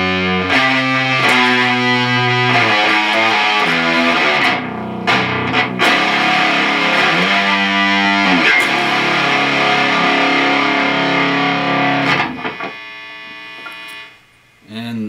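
A loud distorted electric guitar riff plays in repeating chugging phrases, sustained and steady, cutting off briefly near the end before resuming.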